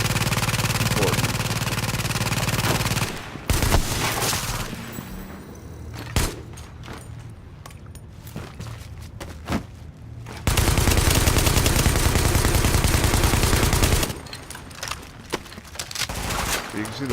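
Gunfire in the video game Tom Clancy's The Division: dense bursts of automatic weapon fire alternate with short pauses and single shots, with someone talking over the action.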